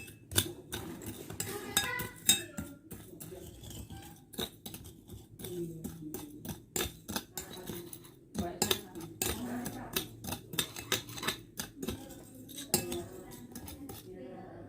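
A spoon stirs salt into water in a container, giving quiet, irregular metallic clinks and scrapes against the sides, repeated steadily throughout with soft background noise.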